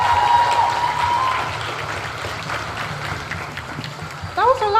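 Audience at a cosplay showcase applauds a contestant, a full, loud wash of clapping that slowly thins out before a voice speaks at the end.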